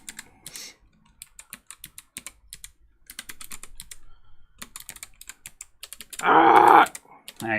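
Quick, crisp key presses on an ortholinear computer keyboard clatter in uneven bursts with short pauses, close and clear, and a loud mechanical burst near the end.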